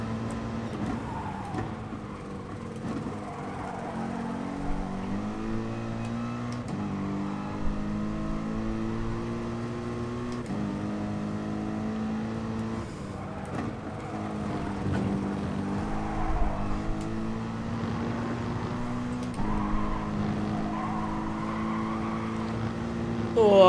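A race car engine in Gran Turismo Sport drones and revs through repeated gear changes, pitch climbing and dropping in a steady cycle, loud and continuous throughout without talk.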